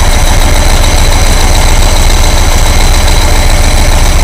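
A VW air-cooled engine idles with a newly fitted Powerspark distributor, a loud, steady, even low-frequency chug with rapid regular pulses, close up and uninterrupted with no talk.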